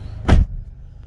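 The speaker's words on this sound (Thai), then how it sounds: "ปิดประตูรถครับ" A Honda CR-V car door is shut with a single loud, close thud, followed by a quiet cabin hum.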